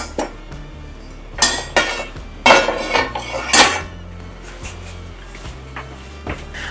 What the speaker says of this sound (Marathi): आता याच्यावर आपण झाकण ठेवूया छानपैकी